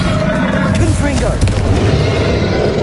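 Confringo fire spell blasts in Hogwarts Legacy, a loud continuous booming roar of explosive bursts with a shouted voice calling out the spell.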